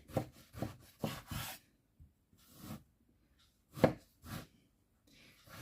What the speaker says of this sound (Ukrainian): І тепер просто ріжу на три частинки